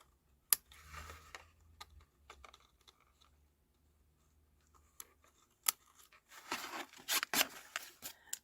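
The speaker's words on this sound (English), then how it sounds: "I'll just snip this a bit." Scissors snip paper while making a card, a few sharp isolated cuts early and a dense cluster of close, crisp snips near the end, with quiet handling between.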